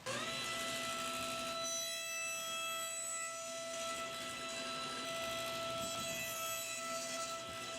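A table saw hums with a steady, sustained tonal whine as its blade runs through wood for butterfly keys, close and continuous with a slight rough grinding texture underneath.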